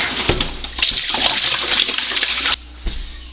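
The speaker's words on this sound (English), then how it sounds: "Wash the inside and outside of the funnel." A sink tap runs steadily as a plastic funnel is rinsed inside and out, water splashing broadband and fairly close for about two and a half seconds before cutting off, followed by a brief faint splash.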